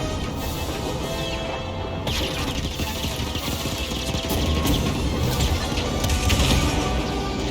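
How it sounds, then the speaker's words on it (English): Explosions and crashing destruction from the Star Wars Jedi Fallen Order video game: a dense, continuous roar of debris and impacts, loud and steady, swelling slightly in its final seconds, with no speech over it. "Explosions!"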